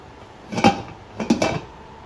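Two clanks of a metal lid settling onto a pot of boiling beef bone soup with carrots, a short pause between them, close by and fairly crisp.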